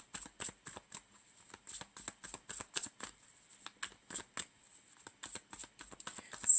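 Tarot cards are shuffled in a quick series of crisp papery riffles and slaps, irregular bursts close up against a quiet background.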